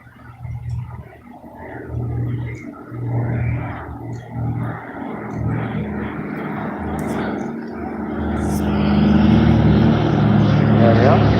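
World War II Douglas Dakota propeller aircraft flying at the 2018 Bournemouth Airshow, a throbbing piston-engine drone that swells louder toward the end, heard under a commentator's voice over the public address.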